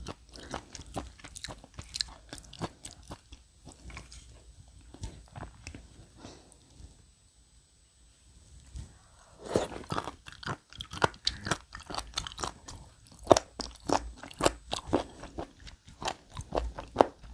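Crunchy chewing of sea cucumber at a Korean seafood mukbang, heard as close, repeated crisp bites and chews, sparse at first, then after a quiet stretch a dense run of loud crunches.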